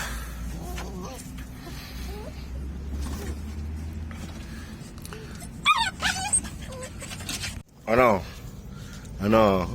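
Hungry puppies whimper and yip for their breakfast, with high wavering cries bursting out in short clusters near the end over a steady low background hum, while a person talks in between.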